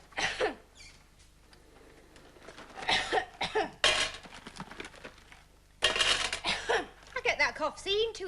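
Person coughing in a comedy sketch, several short harsh coughs in separate bursts between stretches of talk, fairly close and clear.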